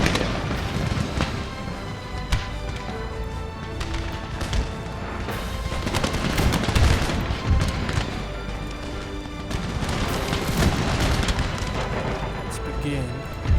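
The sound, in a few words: artillery and musket fire in video game Empire Total War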